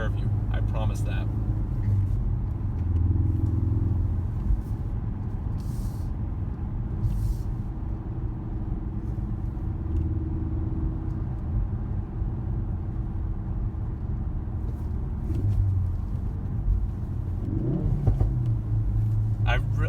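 Steady engine rumble from inside a 2017 Honda Civic Type R while driving, with a few brief revs, loud and continuous, with someone talking over it at times.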